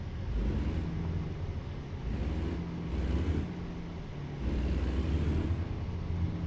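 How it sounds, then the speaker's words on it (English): A heavy truck's diesel engine in American Truck Simulator rumbles low and steady, surging in waves as it pulls and shifts, close and continuous. "this truck's supposed to have a lot of power."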